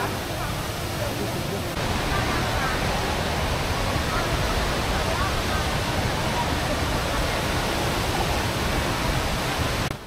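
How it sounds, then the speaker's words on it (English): Indoor waterfall at Singapore Changi Airport, a continuous broad roar of falling water filling the space, steady and loud, with a faint murmur of crowd noise blended underneath. "behind me is one of the biggest indoor waterfall that ever made in the history of humankind so far. The Singapore Changi Airport"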